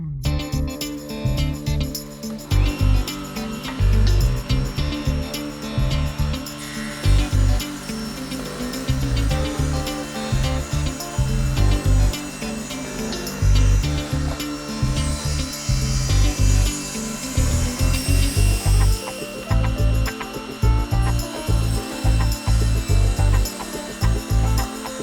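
A saw rips the face off a wooden tenon for a kitchen bar stool, the tenon held against a fence; a loud, steady cutting roar continues for the whole stretch with rhythmic surges and no talking.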